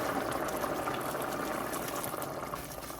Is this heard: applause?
no